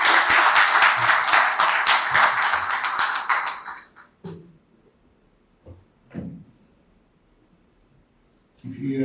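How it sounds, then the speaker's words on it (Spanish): Audience applause welcoming a book's author at a book presentation: loud, dense clapping for about four seconds that fades out, followed by a few isolated knocks and thumps and then a voice starting to speak. "recibámoslo con un fuerte voto de aplauso"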